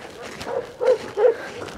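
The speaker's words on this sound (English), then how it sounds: "There's another breed of dog they use quite a lot in this part of the world, and that's called a huntaway." A black and tan huntaway sheepdog barks on a sheep farm, several short barks and yips spaced about every half second, moderately close, with faint background noise between them.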